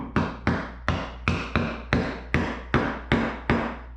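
Nine sharp hammer blows on a block of wood land at a steady, even pace while seating a NP208 transfer case part flush, each a crisp knock with a short ringing decay, close and fairly loud.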